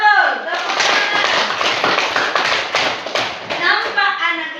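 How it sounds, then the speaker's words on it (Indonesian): Children in an elementary school classroom clapping their hands together, a loud, close burst of rapid, dense applause lasting several seconds, with young voices calling out at the start and end. "Tepuk tangan."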